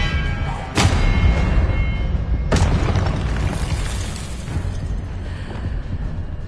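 The Expelliarmus spell is cast in Hogwarts Legacy, heard as two sharp booming bursts with rumbling thuds, loud and close, followed by a fading low rumble.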